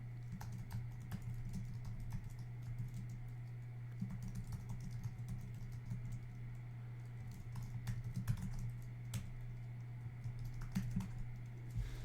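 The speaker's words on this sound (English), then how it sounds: "I'm going to add some text. So I'll just use the T keyboard command and I'm just going to start typing these in" Steady typing on a computer keyboard, a rapid irregular stream of light clicks over a constant low electrical hum, close and without voices.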